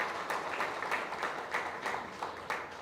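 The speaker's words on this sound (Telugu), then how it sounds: "మీ అందరూ ఫస్ట్ అర్జెంటుగా గట్టిగా చప్పట్లు కొట్టండి" Audience at a film team felicitation by a critics association clapping in a hall, a brief soft burst of applause heard from a distance.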